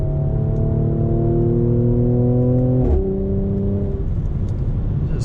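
A 2020 Mercedes-AMG C 43 convertible accelerates out of a turn, its engine note rising loud and close in a strong, steady drone, then easing off near the end.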